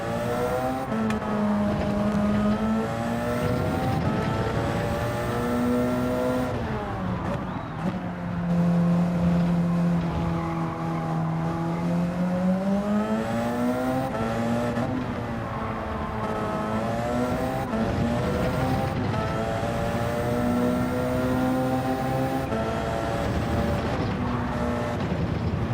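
Group C prototype race cars in Gran Turismo 7 roar down the long Camel Straight, their engines holding one loud, continuous drone whose pitch climbs and dips as the cars accelerate and shift.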